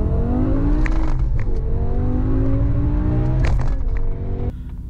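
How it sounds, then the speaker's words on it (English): A BMW E60 M5 with SMG transmission accelerates hard at full throttle in its quickest shift setting, a loud close engine note rising in pitch, dropping sharply at each gearshift and climbing again, with no talk over it. "number one is the SMG transmission at full throttle in the highest shift setting"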